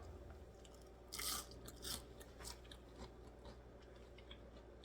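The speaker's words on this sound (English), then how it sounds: "Y'all hear that crunch?" Close, crisp crunches as someone bites into double-fried potatoes, a few sharp bites followed by softer chewing against a quiet low background hum, with no talking.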